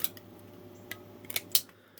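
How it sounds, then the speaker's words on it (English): Scissors make a few sharp, close snips, spaced irregularly over a quiet background, while a homemade alcohol stove is being built. "We got scissors."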